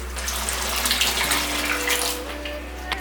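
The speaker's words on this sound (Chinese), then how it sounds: "用50度的温水让粽叶泡半小时左右" Warm water, about 50 degrees, pours and runs into a container of bamboo leaves set to soak for dumplings, a steady close splashing wash like a filling tap with no talk.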